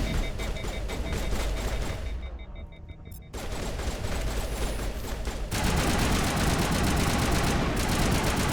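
Dense, rapid pistol gunfire in Mass Effect, loud overlapping shots in bursts, a short lull near the middle, then an even heavier barrage through the end.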